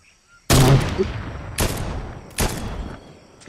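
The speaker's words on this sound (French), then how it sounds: "je vais lui mettre une balle à l'OVNI." Sniper shots fired at a UFO in Fortnite, three sharp, loud cracks spaced about a second apart, each trailing into a short echoing decay, with a fourth starting right at the end.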